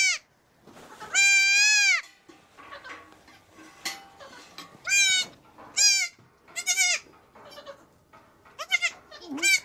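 A newborn Nigerian goat kid bleats in several loud, close, wavering cries, separated by short quiet gaps and softer rustling.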